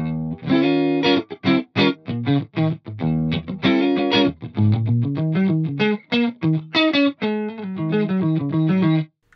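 A distorted electric guitar through an Axe-Fx III amp modeler with negative cab reflection setting plays a choppy run of short, muted and picked notes, close and dry, with brief gaps between bursts and no talking.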